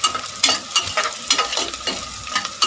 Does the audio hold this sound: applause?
no